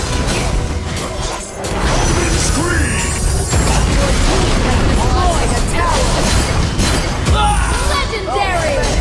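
Tower destruction in the mobile battle arena game Arena of Valor: a loud crashing explosive burst with rumbling debris over dense game effects and music, with an announcer voice calling out events.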